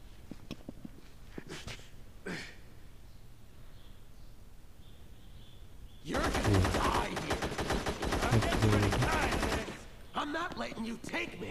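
Gunfire in Gangstar Vegas: scattered shots early on, then a loud sustained machine-gun burst lasting several seconds, followed by more shots over steady game background noise.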